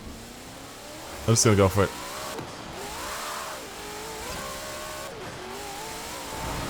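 Shelby 1000 accelerating in the racing game Forza Horizon 4, an engine drone that rises and falls in pitch as the car speeds up, running steadily under someone talking.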